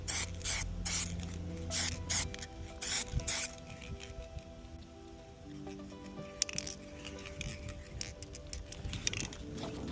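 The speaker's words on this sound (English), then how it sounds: "all we need to do is start to spray the orange on there" Orange paint is sprayed onto a Porsche Boxster 986 in repeated hissing bursts of varying length, close and steady, with short pauses between passes and faint mechanical clicks.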